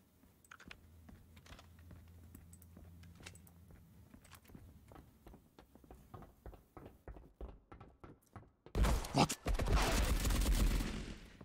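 Video game gunfire in Marauders: a fast series of sharp shots crackles under soft keyboard tapping, building into a loud, dense burst of automatic fire near the end.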